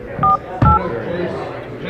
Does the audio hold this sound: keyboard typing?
no